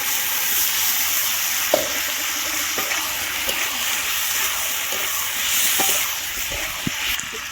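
Potatoes frying in rendered mutton fat for a curry, with a steady broad sizzle throughout and a few sharp scrapes of a stirring spoon against the pan, close and fairly loud, no voices.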